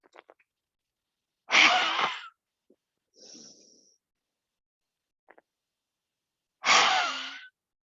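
Breathing during a yoga face stretch: two sharp, close breaths out, each about half a second to a second long, with a faint softer breath between them. Otherwise near silence.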